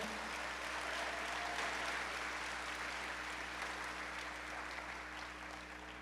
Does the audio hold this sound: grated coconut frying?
no